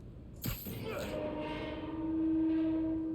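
Rail traffic in Spider-Man: Miles Morales, a train rumbling along tracks with a sharp burst and a rising sustained horn-like tone, moderately faint, with a voice talking over it.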